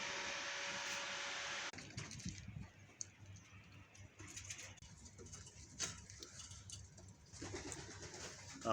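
Pigeons coo and rustle while being fed, with a loud hissing noise at the start and then soft pattering and bird sounds continuing close by.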